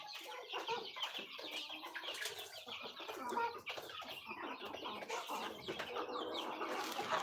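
Chickens kept on a home farm cluck and call continuously at close range, a busy overlapping chorus with occasional louder squawks and no talking.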